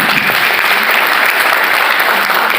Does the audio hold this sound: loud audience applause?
yes